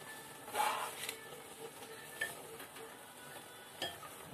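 A spoon scrapes and stirs through a cooking dish in a pan, a few soft strokes over a faint steady sizzle, quiet and close.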